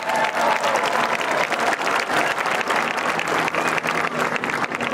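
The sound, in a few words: audience applause for the chief judge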